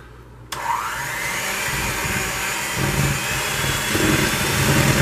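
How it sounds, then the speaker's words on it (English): An electric blender whirs steadily as it mixes peanut butter pie filling with milk, switching on abruptly and holding a loud, continuous motor drone close by. "Now, let's get to blending again."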